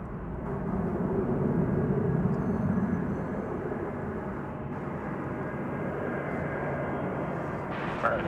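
An airliner landing on runway 18 right at DFW Airport gives a steady, broad engine roar that holds evenly throughout, moderately loud and unbroken, with no voices over it.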